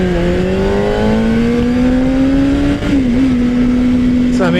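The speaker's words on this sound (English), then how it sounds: "The bike gets loud and seems aggressive" A Suzuki GSX-R motorcycle engine on backroads holds a loud, close, steady drone that climbs slowly in pitch, dips briefly with a gear change, then revs sharply again at the end.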